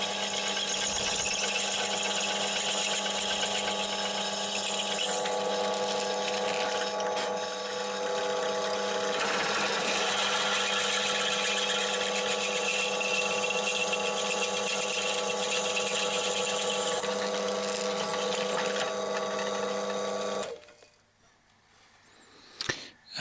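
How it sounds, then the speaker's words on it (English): A power drill running steadily with a 6 mm bit through mild steel in a home workshop, a continuous close whine with grinding texture for about twenty seconds before it stops abruptly. "the final drill is a 6mm drill to open the holes up to the required diameter"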